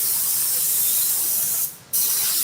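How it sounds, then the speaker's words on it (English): Spray adhesive hisses from a can onto a 2000 Chevy seat bottom being reupholstered, one sustained burst that cuts off abruptly, with no talking. "so I'm just gonna spray"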